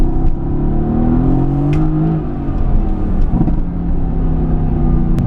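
A Mercedes-AMG GT S engine runs loud and steady while driving, with a deep low rumble and a brief rise in revs partway through. It holds a continuous close drone with no talk over it.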